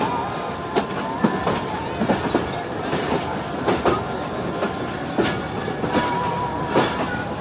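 Passenger train easing into Faisalabad railway station, switching tracks, gives a continuous rolling rumble punctuated by repeated sharp clanks as the wheels cross rail joints, with thin metallic squeals above, heard from aboard.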